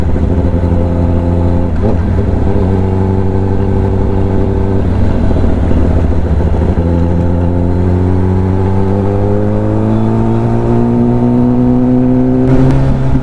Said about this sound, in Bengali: গর্ত থেকে বাঁচার অভিযান চলছে এখন বাইক নিয়ে